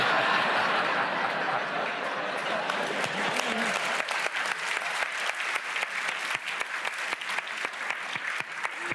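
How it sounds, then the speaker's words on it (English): A live theatre audience at Chichester Festival Theatre bursts into applause, a loud crowd of clapping with a few chuckles that thins into scattered, distinct claps as it winds down. "I think the applause David's suggests that he wins the prize"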